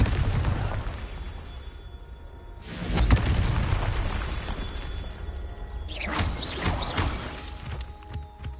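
A Confringo blasting spell erupts in a video game, a booming explosion with a rushing whoosh, followed a few seconds later by a second crackling, shattering blast over a low rumble.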